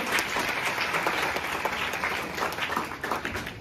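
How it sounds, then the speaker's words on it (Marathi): An outdoor audience at a school health education event run by nursing students claps steadily and warmly, a continuous mid-distance burst of many hands with no pause. "एकदा जोरदार टाळ्या वाजल्या पाहिजे"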